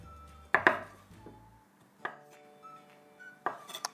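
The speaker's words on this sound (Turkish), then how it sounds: "Zeytinleri de yine küçük küçük doğrayacağım." A few sharp knife chops through olives on a cutting board, irregularly spaced with quiet pauses between, close and fairly soft, no talking.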